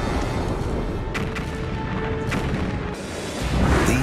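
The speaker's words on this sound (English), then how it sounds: "These explosions, known as supernovas, are the biggest blasts in the universe since the Big Bang" A deep, rumbling explosion roars on with a dense wash of crackling debris, swelling louder again near the end.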